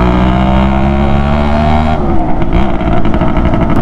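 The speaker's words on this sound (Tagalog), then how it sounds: "Pangit nga lang yung tunog ng pipe natin." Two-stroke Suzuki X4 motorcycle with a rough-sounding exhaust pipe drones loud and close at a steady pitch, then drops to a lower, choppier rumble partway through, with no talking.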